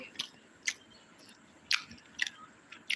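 Fried choora (tuna) fish being eaten, with about six short, crisp bites and chews spaced irregularly, close and fairly quiet, and no talking.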